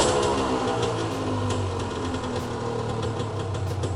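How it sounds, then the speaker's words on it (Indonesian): A Honda NSR two-stroke motorcycle engine idles steadily and close by, with a continuous buzzing, slightly knocking drone and no pauses. "Mesin juga nyala normal"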